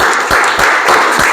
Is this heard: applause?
yes